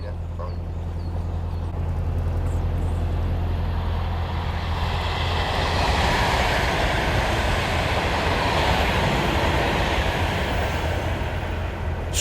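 A train rumbles past at close range, a steady loud roar with low rumble and broadband rushing that swells in the middle and holds throughout.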